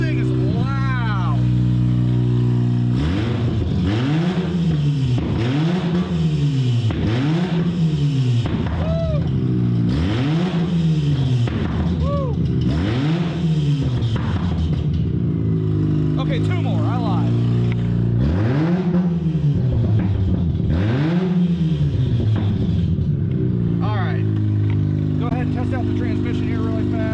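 2005 Mazda RX-8 with a 1.3L rotary engine and loud aftermarket exhaust revving repeatedly in rising and falling sweeps, close and very loud, with a voice talking over the engine.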